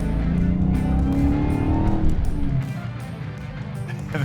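A 2021 Dodge Charger Hellcat Redeye's supercharged engine revs loud and close, climbing in pitch with supercharger whine, then dropping to a rough, rumbling lower note.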